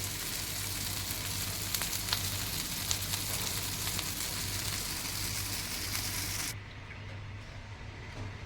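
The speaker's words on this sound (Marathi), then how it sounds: "दुसऱ्या साईडने फ्राय करून घेते" Rajma tikki fry in oil in a pan with a steady, even hiss of sizzling and a faint hum underneath. The sizzle drops noticeably quieter near the end.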